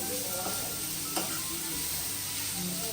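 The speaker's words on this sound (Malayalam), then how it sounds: "ഉള്ളി, പച്ചമുളക്, ഇഞ്ചിയെല്ലാം മാറ്റി അത് കഴിഞ്ഞ് ചിക്കൻ വേവിച്ചത് അതിലേക്ക് ഇട്ടു." Cooked chicken fries in a masala of onion, green chili and ginger for Thalassery chicken kalmas, giving a steady, close sizzle throughout with a faint clink partway through.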